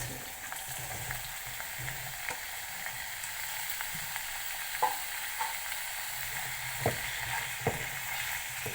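Sliced potatoes frying with light pink onions in a pan, a steady moderate sizzle broken by occasional clicks and scrapes of stirring, no talking.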